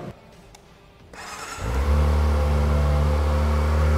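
A Kawasaki ZX25R 250cc motorcycle engine starts quiet, then revs up sharply after about a second and a half into a loud, sustained high-pitched whine that holds steady to the end.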